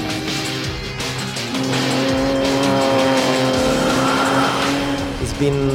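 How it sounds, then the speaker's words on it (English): A 450-horsepower performance car laps a race track, its engine droning loud and steady with rising and falling pitch, tires squealing at moments, under constant wind and road roar. "my first experience on a fast car with 450 horsepower"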